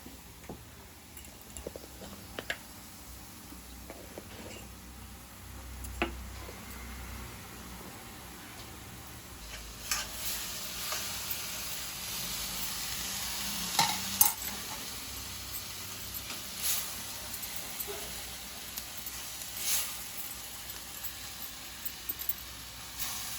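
Dhaba-style egg curry cooking in a pan and being stirred with a wooden spoon: a soft, low sizzle runs throughout, broken by scattered light taps and scrapes, with no talking.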